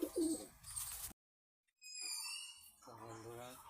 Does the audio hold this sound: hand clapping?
no